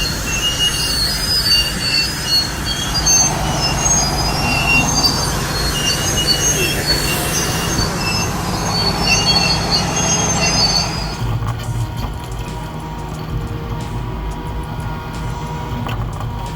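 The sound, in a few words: train colliding with an oversized heavy truck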